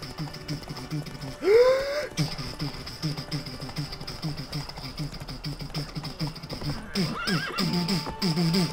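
A horse in the video game Witcher 3 gives a loud whinny near the start, while hooves keep up a steady rhythmic clip-clop trot throughout, with a second, fainter whinny later.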